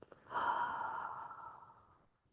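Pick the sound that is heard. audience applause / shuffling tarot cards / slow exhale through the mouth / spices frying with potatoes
slow exhale through the mouth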